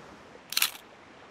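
Single-lens reflex camera shutter fires once outdoors near river rapids, a short crisp mechanical click-clack standing out over quiet background hiss.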